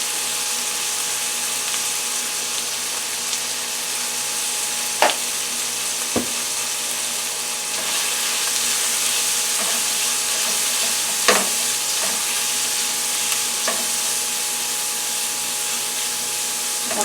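Teriyaki beef and pineapple stir fry, made from T-bone steak and seasoned with black pepper and granulated garlic, sizzling steadily in a pan, with a few sharp clinks and scrapes of utensils against the pan.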